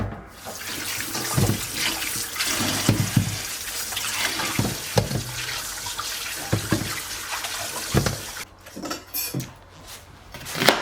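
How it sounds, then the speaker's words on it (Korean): Chili peppers and onions are washed for kimchi under a running kitchen tap: steady splashing water flows throughout, with occasional knocks and light clinks close by. "맑은 물에 깨끗이 씻어 불순물을 말끔하게 제거합니다."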